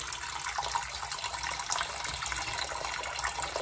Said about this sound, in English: Once it's warm, pull your drain plug and let that sink start filling.